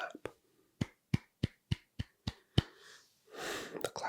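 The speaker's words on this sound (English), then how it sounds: "Here's a good clap." Sharp single hand claps in a quiet close-miked room, about eight crisp claps in an even, deliberate rhythm, followed by a soft breathy rustle and a couple more quick claps.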